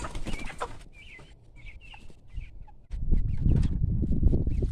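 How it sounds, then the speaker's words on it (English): Broiler chickens and hens out on pasture cluck and chatter in short scattered calls, moderately close, with a burst of rustling, flapping-like noise toward the end. "So like our broilers, we do have our hens."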